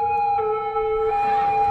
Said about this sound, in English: look at the police cars